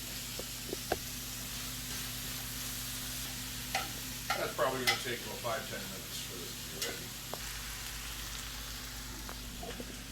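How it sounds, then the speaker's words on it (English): Bacon and onions sizzle faintly and steadily in a pan, with a few clinks of a utensil stirring, while someone talks over it. "now it's starting to look like it's sizzling up nicely"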